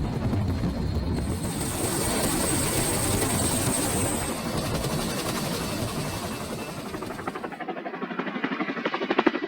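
A Dutch CH-47 Chinook heavy-lift military helicopter hauling a sling load in training thunders close by, a dense, steady rotor roar with a high whine, shifting to a rhythmic, chopping rotor beat toward the end; no one speaks.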